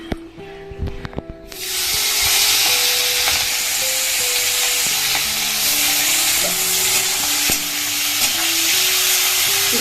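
Pumpkin pieces are cooked and stirred in a pan of hot oil for a fish curry. After a quiet start with a few clatters, a loud, steady sizzle takes over and holds, with faint tonal sounds running behind it.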